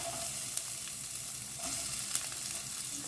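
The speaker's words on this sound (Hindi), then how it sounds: "अब प्याज को ना हमें 1-2 मिनट के लिए भून लेना है" Two onions fry in a pan alongside bay leaf and cloves for Goan pulao, producing a constant close sizzle with a few sharp stirring taps, fairly quiet and uninterrupted by speech.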